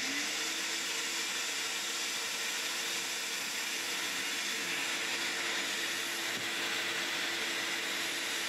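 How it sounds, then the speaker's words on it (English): A vacuum cleaner drones steadily inside a van being built out, a loud, unbroken broadband whine and hiss that holds constant for the whole stretch. "Here we go, vacuum on."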